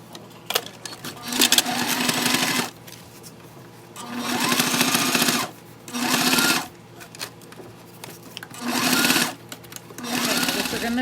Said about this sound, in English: we're gonna go ahead and top stitch right across there